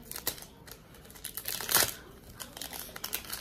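A Pokémon Champion's Path card pack wrapper crinkles and tears open in close, quiet handling, with sharp crackling bursts and one louder rip near the middle.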